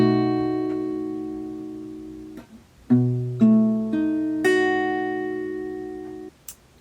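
Acoustic guitar chords strummed one after another, each ringing out and decaying before the next, about five clear strums played alone.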